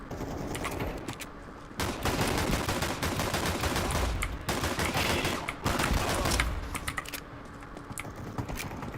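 Gunfire in Counter-Strike 2 rattles out in dense, rapid bursts close up, with only brief pauses between volleys and keyboard clicking mixed in.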